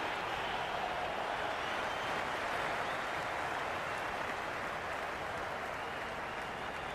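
A large stadium crowd in the Cricket 26 video game cheers and applauds in a steady, dense roar, holding at an even level throughout with no pauses.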